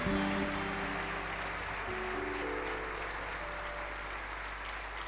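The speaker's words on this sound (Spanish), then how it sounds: "que se escuche el aplauso" A congregation at a ministerial church congress applauds loudly and continuously, with a sustained wash of clapping over faint tonal background sounds that fades slightly toward the end.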